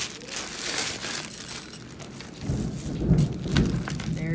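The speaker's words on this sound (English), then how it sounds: "right in the middle of a Texas thunderstorm" A Texas thunderstorm: rain falls steadily on surfaces nearby while thunder rolls and builds in low rumbles, growing louder near the end.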